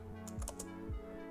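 A computer keyboard is typed on in a quick short burst of a few soft clicks while a command is entered, faint and close over a low hum.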